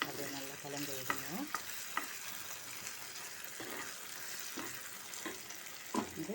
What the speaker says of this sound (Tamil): அப்படியே நல்லா கலந்து விடுங்க.